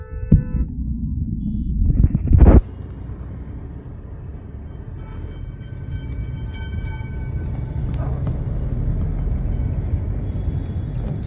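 A Kolkata tram passes close by with a loud burst of clatter and squeal, then a long low rumble with metallic ringing from the rails continuing steadily.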